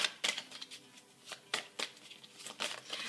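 Tarot cards shuffled and cut by hand, a quick run of crisp riffling slaps and soft flicks at close range, uneven in rhythm, with no voice over them.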